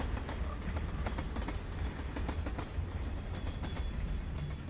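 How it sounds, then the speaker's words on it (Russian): A passing train in Life Is Strange rolls by close and loud, its deep steady rumble broken by a regular clickety-clack of wheels over rail joints for several seconds, without any talking. "Там какой-то поезд едет."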